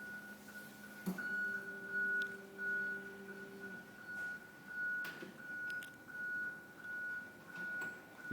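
A counterbalance forklift truck travelling in reverse sounds its reversing alarm, a steady series of clear electronic beeps pulsing at regular intervals over low engine hum, with a few clunks and knocks in between.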